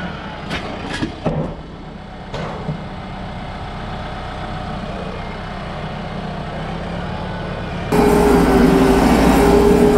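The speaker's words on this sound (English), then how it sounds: "driving this tractor is as fun as it looks." A 75-horsepower tractor engine runs steadily at idle with a low, continuous rumble, a few brief knocks early on, then the engine note grows louder and harsher near the end.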